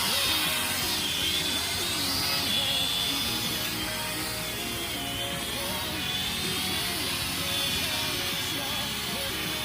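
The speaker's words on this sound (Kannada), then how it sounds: "ಹಾಗೆ ಇದನ್ನು ಹಿಂದೆ ಫೋಲ್ಡ್ ಮಾಡಿ ಮುಂದೆ ಪುಷ್ ಮಾಡಿದ್ರೆ ಡ್ರೋನ್ ಆನ್ ಆಗುತ್ತೆ." An E99 toy drone flies close by with a steady, high-pitched whine of small propellers that holds unbroken for about ten seconds, with faint background noise beneath it.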